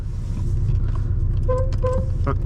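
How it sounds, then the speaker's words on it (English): Two short, thin horn beeps from a 2018 Porsche 718 Boxster sound over a steady engine rumble inside the car, fairly quiet against the drone. "the horn is not loud either"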